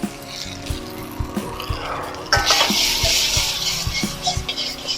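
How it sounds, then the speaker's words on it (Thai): Stir-fry sauce poured into a hot wok, the sizzle jumping louder partway through, over a spatula clanking and scraping against the pan in an uneven rhythm. "ต่อไปก็ซอส ผัด นะฮะซอสผัดลงไปเลยนะครับ"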